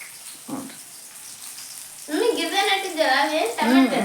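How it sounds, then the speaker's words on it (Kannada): Chili peppers fry in a pan with a continuous light sizzle and crackle, a brief clatter near the start, and a person talking over it during the second half. "ಮೆಣಸಿನ್ಕಾಯಿ ಉರಿಯಾಕತ್ತೀನಿ ನೋಡ್ರಿ"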